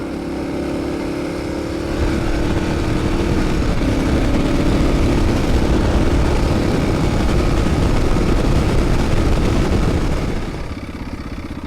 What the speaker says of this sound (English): By this time, the little bit of a noise in the engine had got a little bit louder, but still wasn't too bad.